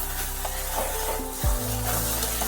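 Spinach curry with prawns and jaggery being stirred in a pan, a steady sizzle underneath with soft scraping strokes and one louder low knock midway.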